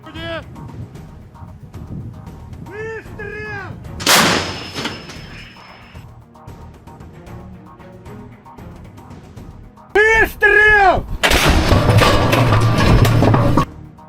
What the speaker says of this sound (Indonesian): Pasukan artileri dengan cepat mengarahkan senjatanya ke sasaran dan menghancurkannya dengan tembakan cepat.